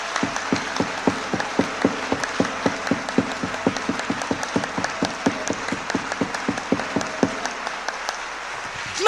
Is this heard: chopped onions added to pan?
no